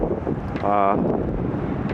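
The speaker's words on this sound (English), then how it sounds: "Super windy, as you guys can tell." Strong wind buffets the microphone in a constant roar, with a person talking underneath it while walking down Dundas Street.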